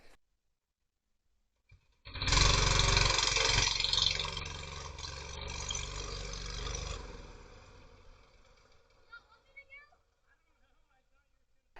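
A cheap secondhand go-kart's small engine roars with its throttle stuck open, a loud steady high-revving run of several seconds that drops off, with people talking around it.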